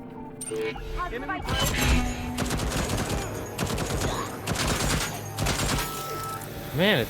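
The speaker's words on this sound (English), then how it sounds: "it's weird when these turrets just activate weirdly, isn't it?" Automated turret gunfire in Deathloop, rapid bursts of mechanical shots in several volleys over about seven seconds, mixed with clanks and other game effects while a person talks.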